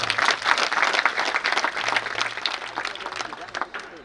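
A crowd at a village wrestling (kusti) match in Maharashtra claps steadily, a dense, lively patter of many hands. A voice carries over the clapping throughout.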